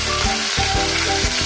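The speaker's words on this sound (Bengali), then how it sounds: "মাছটার একদিক খুব ভালোভাবে ভাজা হয়ে গেছে, তাই মা এবার ওটাকে অন্য দিকগুলো উল্টে দিচ্ছে।" Topse fish sizzling hard in hot oil as it is flipped, a loud continuous crackle with a few scraping knocks of a spatula against the pan.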